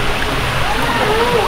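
Water splashes and rushes steadily up close, a continuous loud wash with no clear breaks, with talking partly blended into it.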